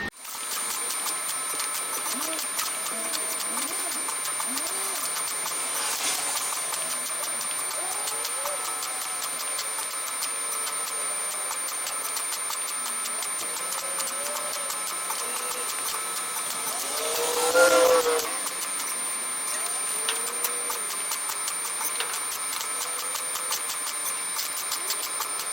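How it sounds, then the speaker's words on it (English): A welder runs a steady, crackling buzz while fusing a patch into the door panel of a rusted 1956 oval-window VW Beetle. The sound is continuous and close, with a faint voice briefly audible partway through. "Okay, I've got welded all the way around here."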